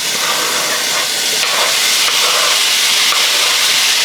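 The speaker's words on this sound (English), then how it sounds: "And in a hot pan, so just add them without oil." Bacon strips hiss and sizzle loudly as they hit a hot dry pan with no oil, a bright continuous frying crackle that stays close and steady without letting up.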